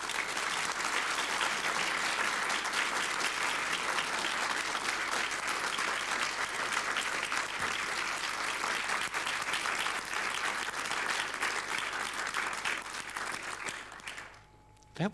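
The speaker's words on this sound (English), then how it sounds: "That was sweet applause." An audience at an evening panel event breaks into sustained, loud applause, dense clapping holding steady for over ten seconds before tapering off near the end.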